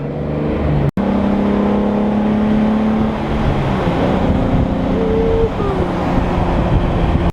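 A VR6-engined car driving with a steady, loud engine drone and road noise throughout, a brief dropout near the start and a rising engine tone partway through; no talk.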